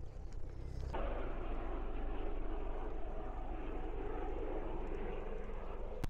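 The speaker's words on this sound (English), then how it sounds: "A police helicopter coming right away over." A police helicopter passes overhead during a countryside walk near farm buildings, a steady, broad engine and rotor roar that swells after the first second and holds at moderate loudness, with no talking.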